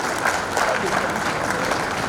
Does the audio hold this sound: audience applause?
yes